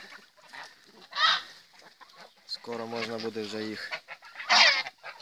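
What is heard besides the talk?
geese honking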